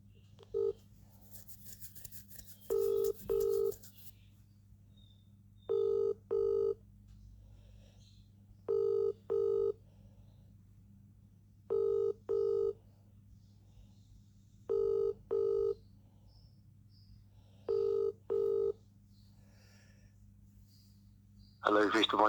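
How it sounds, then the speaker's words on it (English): A quick burst of dial tones, then a telephone ringing in evenly spaced double rings, repeating steadily over a faint hum. "Ringing up Jonathan Smith."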